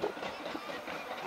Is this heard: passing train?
yes